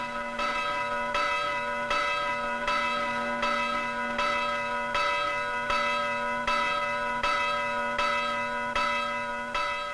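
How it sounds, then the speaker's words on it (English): Church bells ring out on Cyprus in 1965 in a steady, repeating rhythm, resonant and sustained, with no voices present. "You hear bells all over this island."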